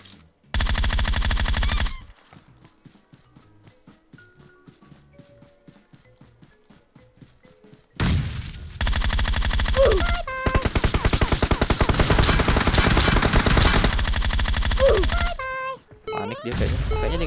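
Gunfire in a shooter video game comes in loud bursts of rapid automatic shots, first a short volley, then a quiet gap with faint footsteps, followed by long sustained firing near the end.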